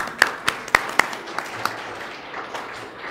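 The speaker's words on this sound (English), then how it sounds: "Round of applause." An audience at a women-in-industry electrical conference applauds the women apprentices, a short round of scattered clapping with a few sharp claps standing out, then fading off.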